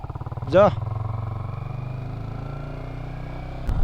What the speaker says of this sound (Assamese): এতিয়া নৱজিতৰ বাইকখন অকণমান মানে চলাই চাওঁ আৰু টেষ্ট ড্ৰাইভ লওঁ।